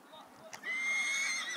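A horse at a water crossing on an equine confidence course gives a loud, sustained whinny after a few soft hoof sounds, close by and fairly clear.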